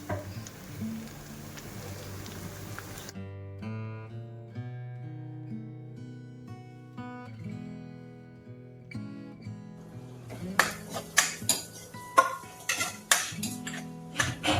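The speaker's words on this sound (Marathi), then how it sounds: "तसेच अद्रक लसूणची पेस्ट थोडी परतल्यानंतर याच्यामध्ये मी आता कांदा टाकत आहे।" Onion added to a pan with ginger-garlic paste and stirred. A hiss gives way to background music, then a quick burst of close spoon scraping and clattering against the pan.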